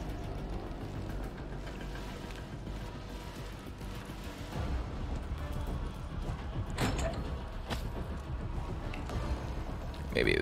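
Inside the Resident Evil 4 video game, a door creaks open with faint squeaky groans and a couple of sharp thuds over quiet game ambience.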